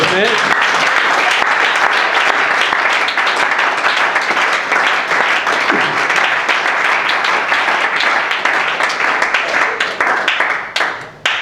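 A church congregation applauds the Lord with loud, sustained clapping and some voices mixed in. The clapping holds steady for about ten seconds, then tapers off at the end.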